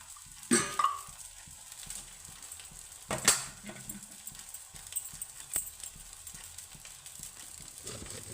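A veg paratha fries in oil on a hot pan with a soft, steady sizzle, broken by a few sharp clacks and scattered light taps from handling.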